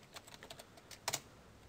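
Quick keystrokes typed on a computer keyboard while entering a search term, a short soft clatter of taps ending in a couple of louder presses, close and alone.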